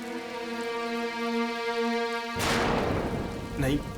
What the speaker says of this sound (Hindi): मतलब इतनी बारिश हो रही है, इतना अंधेरा है बाहर